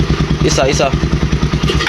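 A motorcycle fitted with a homemade power pipe exhaust, a drilled pipe replacing the inner screen, throbs close and loud in a steady, rapid pulsing rhythm while someone speaks over it.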